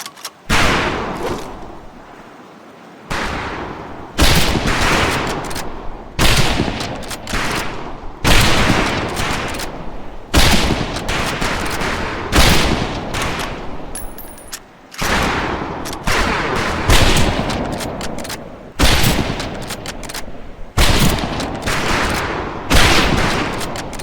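Rifle fire on a military training range in the WWII game Medal of Honor Pacific Assault: loud, close volleys of shots arrive in repeated bursts separated by brief pauses, sustained throughout.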